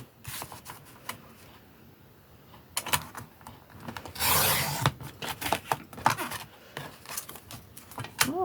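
Scissors or a paper trimmer cut through paper while a hot chocolate cup craft is being made, giving soft close rustling and scraping strokes in short bursts, with one longer rasp in the middle.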